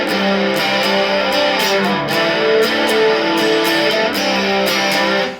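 Electric guitar run through a Boss DS1 distortion pedal, playing a riff with heavily distorted, sustained chords and notes, loud and continuous with no talking.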